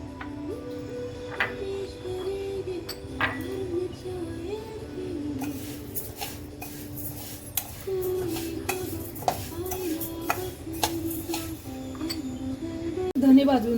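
Masoor and moong dal are dry-roasted in a pan, stirred with a spoon that scrapes and clinks against the metal at irregular intervals, under a voice talking.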